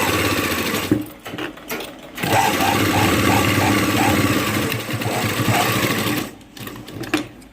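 A sewing machine stitches a blouse up close, with a loud, steady motor whir and rapid needle chatter that stop briefly a couple of times before running on.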